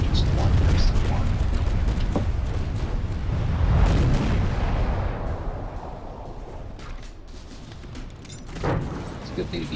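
Advanced cannons fire in a ship battle video game, heavy repeated booms and rumbling blasts, loudest early and thinning out later, with a voice talking over them.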